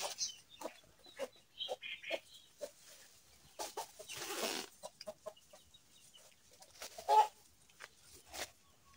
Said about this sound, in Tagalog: May manok pa guys Ligaw na manok.